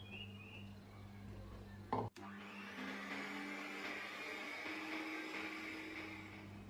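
An electric mixer beats butter and egg at low speed for a butter cake, giving a steady motor whirr. A brief clunk marks a change partway through, and the hum continues evenly afterward.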